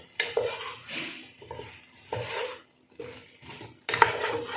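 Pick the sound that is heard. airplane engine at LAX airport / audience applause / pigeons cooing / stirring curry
stirring curry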